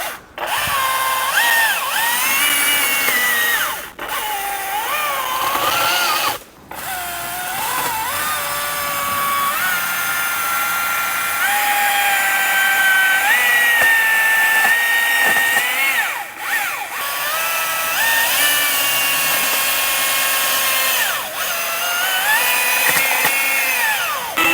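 A Husqvarna 530 iPT5 battery-powered pole saw runs with a steady high electric whine, close and loud, cut by a few short pauses where the motor stops and spins back up.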